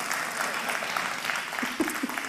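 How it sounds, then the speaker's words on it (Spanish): Brief burst of studio audience applause for a comedian's introduction, steady clapping with a few voices mixed in near the end. "Franco Escamilla, el aplauso que se escuche, por favor."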